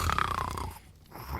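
Snoring from a character asleep in a bed in the dark historical visual novel The Hungry Lamb, a single rough, rasping breath close by with no one talking.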